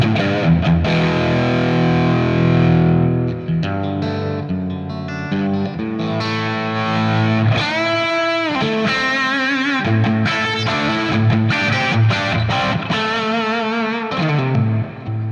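Distorted electric guitar played through a mic'd original guitar cabinet, with busy chords and riffs and some chorus-like shimmer running continuously and up close.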